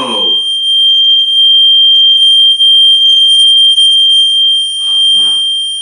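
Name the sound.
loud ringing rod rubbed with fingers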